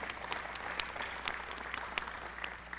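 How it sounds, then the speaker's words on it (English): Audience applause for a speaker at a corporate wellness event, fairly quiet and steady clapping from a modest crowd sustained throughout. "Let's give Eric a big round of applause."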